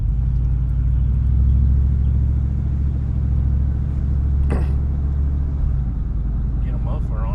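Engine of a luxury travel van with no muffler, left sitting for over three years, idling as a deep, steady low rumble that continues throughout, with people talking over it and a brief knock near the middle.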